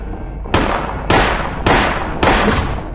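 Four loud pistol shots from the PS1 game Silent Hill, fired in an even rhythm about half a second apart, each a sharp broadband crack with a lingering tail and no talk over them.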